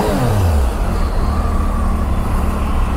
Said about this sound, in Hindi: आवाज़ सुनेंगे आप इस बाइक की